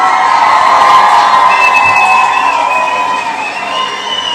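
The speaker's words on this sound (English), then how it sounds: "You all deserve a round of applause." Crowd cheering and whooping at the close of a live show with panelists, a loud sustained roar of voices that fades gradually toward the end.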